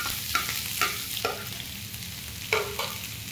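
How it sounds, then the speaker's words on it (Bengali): Chopped onions frying with cumin in hot oil while arhar dal is being cooked, a steady close sizzle broken by several sharper stirring scrapes, with no voices. "এরপরে আমি পেঁয়াজ কুচি দিয়ে দেবো"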